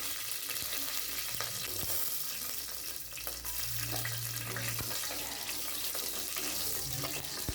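Curry leaves and green chilies sautéing in a pan for millet sambar rice, a steady close crackling sizzle with occasional stirring scrapes running throughout.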